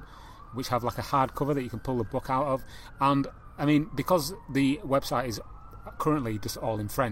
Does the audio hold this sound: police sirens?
yes